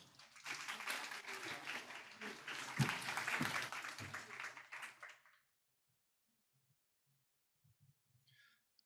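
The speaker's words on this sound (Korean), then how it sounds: "박수로 맞아주시면 감사하겠습니다" Audience applause welcoming a speaker at a Korean tech presentation on shopping agents, a dense wash of clapping that runs about five seconds and then stops, leaving near silence with a few faint soft sounds.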